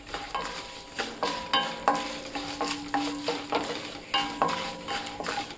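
A spoon stirring a sizzling turmeric spice base for temple-style pulihora in a pan, rhythmic scraping strokes roughly every half second over a steady frying hiss, close and clear.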